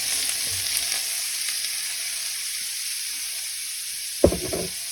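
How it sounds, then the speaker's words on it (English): Leeks hit butter and olive oil in a hot pan and set off a steady, bright sizzle that holds throughout, with a brief close clatter of stirring near the end and no voices. "And immediately throw in the leeks."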